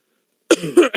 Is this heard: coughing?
yes